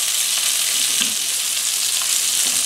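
A Greek steak fries in browning butter in a Tfal Expert Pro stainless steel skillet, a loud, dense, unbroken sizzle close up, with faint bubbling and no talk.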